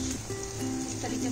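Onion shells tossed into a pan of frying chickpeas give off a steady low sizzle with a faint hum underneath, close by and moderately loud.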